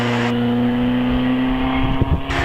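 A vintage sports car at the Prescott Hill Climb, engine droning steadily and loud with a strong low tone as it pulls away at the start of its climb, alone without talk.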